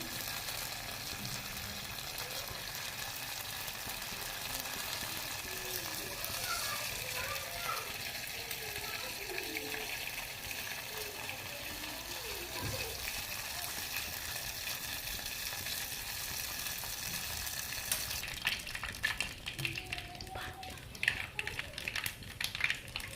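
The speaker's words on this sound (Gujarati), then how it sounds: "तेल गरम थाय એટલે અંદર રહી નાખી દેવાની" Mustard seeds sizzle in hot oil as a steady frying hiss, growing crackly toward the end, while someone talks over it.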